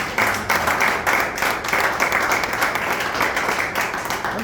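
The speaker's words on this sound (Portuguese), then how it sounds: "peço uma salva de palmas, é a Abigail de Campo Grande" An audience at an electoral congress bursts into steady, dense applause, with many hands clapping together close by for the whole stretch without pause.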